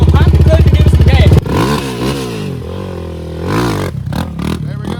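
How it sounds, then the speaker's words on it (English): Motorcycle engine revving hard as the clutch is popped, a freshly rebuilt bike with a failing top end during a wheelie attempt; a loud, close rising roar with clattery mechanical noise, following a sustained buzzing drone at the start. "you gonna pop the clutch and give it some gas"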